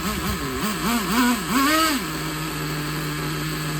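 A Traxxas T-Maxx .15 nitro RC truck engine revs in quick rising and falling bursts, then settles into a steady, buzzy high-pitched idle, loud and close with no talking.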